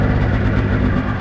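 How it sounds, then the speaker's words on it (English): A motorcycle-type engine with a leaking Y pipe idles steadily while warming up, a loud, close, continuous low rumble with no talk. "See, it's idling fine now"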